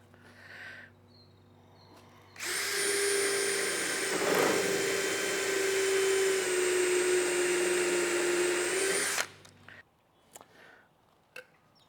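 A power drill whines steadily for several seconds as it bores a hole, then stops, followed by a few faint handling knocks.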